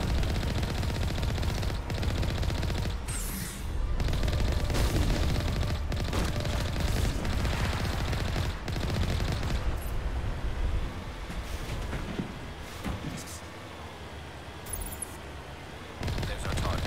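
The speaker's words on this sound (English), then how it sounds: "I'm overheating the shit out of my gun." Sustained automatic gunfire from an overheating gun in Mass Effect Legendary Edition, dense rapid bursts that keep going with brief breaks, loud and close, thinning toward the end.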